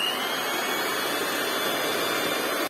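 Electric mixer on low speed blending mascarpone into a cream for a chocolate cake, a steady whirring hiss close by that continues evenly and then cuts off abruptly at the end.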